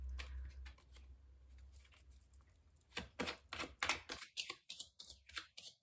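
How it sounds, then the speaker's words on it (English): Tarot cards shuffled close up, a quiet rustle at first giving way to a series of sharp, rhythmic slaps and riffles that grow louder toward the end. "It wants a good shuffle."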